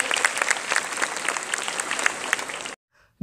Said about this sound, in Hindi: जोरदार तालियां इस प्रस्तुति के लिए